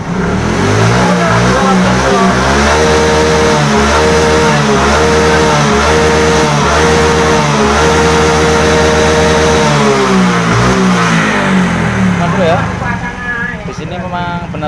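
A Yamaha Mio J scooter engine, after a fault code 46 repair, runs loud and close with a buzzy, uneven revving drone that swells and dips before easing off near the end.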